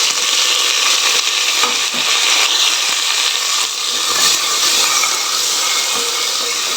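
Five chopped tomatoes frying in a pan with curry leaves for an okra curry, giving a steady, loud sizzle and hiss with faint scraping from stirring throughout.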